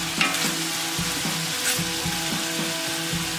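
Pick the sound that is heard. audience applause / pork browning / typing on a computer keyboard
pork browning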